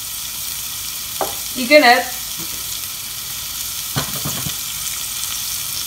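Onion sautéing in a pan for parsnip and apple soup, a low steady frying hiss running throughout with a few brief clatters, and a person speaking briefly over it.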